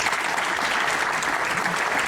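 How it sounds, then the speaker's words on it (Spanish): A strong round of applause from the audience at a homage ceremony for Benito Pérez Galdós in Madrid, a dense, even wash of many hands clapping that holds steady throughout. "Un fuerte aplauso."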